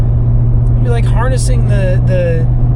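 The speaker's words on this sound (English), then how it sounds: "That guy is hot rodding his 1932 Ford Roadster." A 1932 Ford Roadster hot rod drives with a strong, steady low engine rumble throughout, while someone talks over it.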